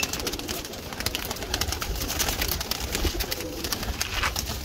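Pigeons cooing and fluttering in a sunny outdoor spot where a flock of stray pigeons gathers, a steady busy texture of calls and wingbeats close by with no talk.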